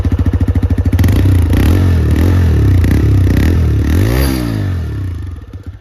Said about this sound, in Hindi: जो इस बाइक का एग्जॉस्ट है, जो साउंड है, इसमें एक बेस है